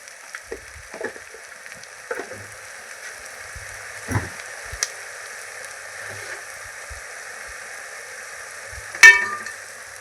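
Mutton added to a pan with softened greens frying over heat: a faint, even sizzle with a few soft scrapes of stirring and one louder clack near the end.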